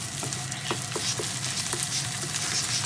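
Chaofan fried rice with spring onions being stir-fried, giving a loud, continuous close-up sizzle broken by quick scraping tosses of a spatula in the pan.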